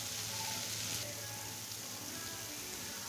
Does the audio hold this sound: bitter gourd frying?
yes